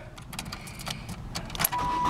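A 1996 Saturn SC1 cranks over briefly and catches, settling into a steady idle after a short starter whir, heard close by and fairly quiet with no talking.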